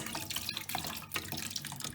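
Cold tap water runs and splashes into a Dyson DC33 vacuum cleaner canister being rinsed in a sink, a continuous close gurgling stream with small drips and sloshing surges.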